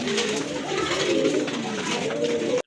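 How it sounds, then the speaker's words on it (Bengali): Pigeons coo steadily at a large pigeon farm, including Indian Kaldom birds, many overlapping soft throaty calls forming a continuous close chorus with no speech. "তো ফিরোজ ভাই, আর বেশি কথা আমরা না বাড়াই, চলেন আমরা একে একে কবুতরগুলো দেখানোর জন্য চেষ্টা করি।"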